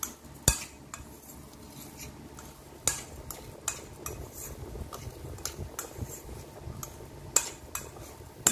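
Rice being mixed with spices and ghee in a pot: a spoon scrapes and clinks against the metal in irregular knocks, a few sharp and loud, with soft stirring in between and no talking.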